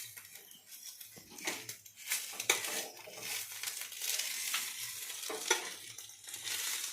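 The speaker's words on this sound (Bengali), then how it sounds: "আমার ডিম ভাজা হয়ে গেছে খুব সুন্দরভাবে" Eggs frying in a pan give a steady, close sizzle with crackling pops and spatters that swell and ease over several seconds, with no voices.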